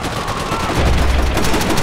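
An enemy machine gun in Call of Duty fires a loud, sustained rapid burst at close range, a steady rattle with heavy low-end thump.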